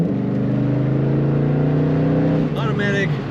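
A 1994 Chevrolet Corvette Convertible with an automatic gearbox cruises along, its exhaust giving a steady low, loud rumble that holds even, then shifts briefly near the end.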